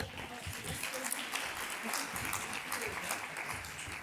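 Applause from a roomful of people at a gathering where groups share conclusions, a soft, continuous patter of clapping at moderate distance, with murmured voices mixed in.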